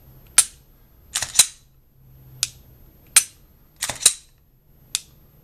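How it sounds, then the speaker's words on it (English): A Glock pistol's slide is racked repeatedly while the trigger is held back, giving six sharp metallic clacks, some in quick pairs, spaced apart in a quiet room. "if I hold the trigger all the way to the rear and I rack the slide"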